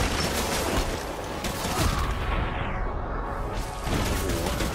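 Video game gunfire from Death Stranding crackles in dense, noisy bursts with whooshing sweeps, loud and continuous across the whole stretch.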